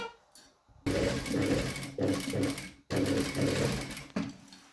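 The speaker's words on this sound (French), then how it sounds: "Et là, je vais piquer à 3 mm directement." Sewing machine stitching a seam on a jeans pocket, several quick bursts of rapid needle chatter with short stops between them, close and loud, no speech.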